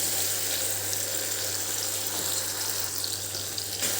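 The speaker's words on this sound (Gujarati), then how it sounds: "પાંચેક મિનિટ સુધી આપણે એને સંતળાવા દઈશું તો ટામેટા આપણા સોફ્ટ થઈ જાય" Tomatoes sauté in a pan with a dense, steady sizzle and crackle that stays close and even throughout, with no voices.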